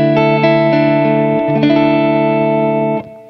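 An Asmuse foldable travel headless electric guitar plugged into an ALP rings out with a clean tone, playing sustained chords that ring steadily for about three seconds before cutting off, loud and close with no talking.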